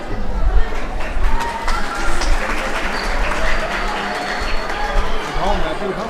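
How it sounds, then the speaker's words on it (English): Scattered applause and crowd noise for a Kathak dance group at a Nowruz celebration, mixed with murmuring voices and some rumble, fairly loud but uneven. "Please a big round of applause for them."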